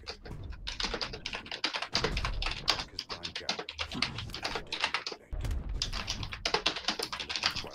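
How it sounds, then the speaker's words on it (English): Fast, irregular clatter of typing on a computer keyboard, close and fairly quiet, with short pauses between bursts of keystrokes and no speech. "What are you typing?"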